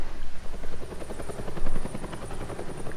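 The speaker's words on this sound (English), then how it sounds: "cool helicopter scene." Helicopter in the Batman: The Telltale Series video game, a steady rotor thrum with rapid rhythmic chopping and a whining high tone, loud and continuous throughout with no talk over it.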